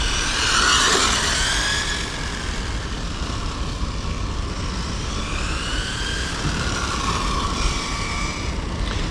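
A Traxxas Corvette 4TEC 3.0 RC car with a Velineon 3500 brushless motor drives nearby, giving a continuous high electric whine that rises and falls in pitch as it accelerates and turns, steady and loud throughout.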